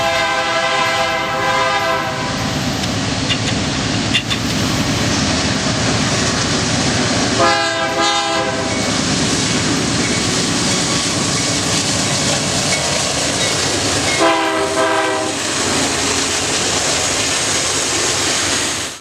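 A freight train led by a -9 locomotive hauls a manifest on the southern transcon, its loud continuous rumble and wheel noise running throughout, with two blasts of the horn sounding near the start and two more later.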